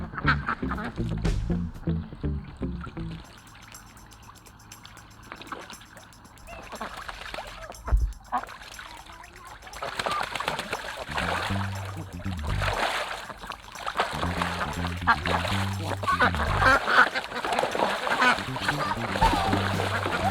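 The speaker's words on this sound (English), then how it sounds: "The ducks have graduated to their new pen" Ducks in a new pen fenced with electric poultry netting quack repeatedly in loud bursts, some close and some farther off, with occasional splashing and quieter gaps between.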